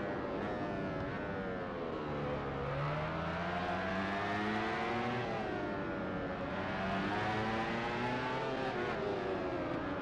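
A MotoGP 13 racing game motorcycle engine heard from the helmet camera view drones steadily, its pitch rising and falling as the bike accelerates and shifts through gears over ten seconds.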